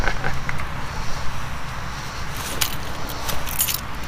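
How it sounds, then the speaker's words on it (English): Car keys being fished out and handled, producing scattered metallic jingles and clinks that sharpen into brief bright rattles near the end, over a low steady background hum. "Get my keys."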